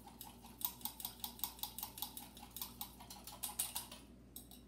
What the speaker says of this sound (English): I'm going to stir this up really well